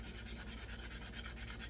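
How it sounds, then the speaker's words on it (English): Sandpaper worked hard over a briar tobacco pipe to remove a deep stain, a fast rhythmic back-and-forth rasp, close and steady, alone with no voices. "really sand on this"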